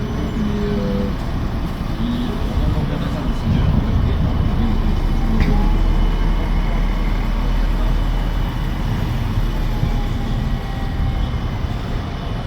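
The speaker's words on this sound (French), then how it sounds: "Le tram du Sargon qui va aller à la gare" An Alstom tram passing at a busy stop, a loud, close, continuous low rumble with wheel and motor noise, faint squeals and a brief high tone, holding steady for several seconds.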